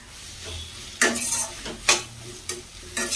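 Onion, tomato and cashew fry in a pan for butter chicken, a soft background sizzle broken by four sharp bursts of spoon stirring and scraping against the metal, each loud and close, with no talking.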